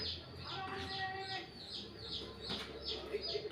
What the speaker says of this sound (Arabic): 4 كتاكيت ملونين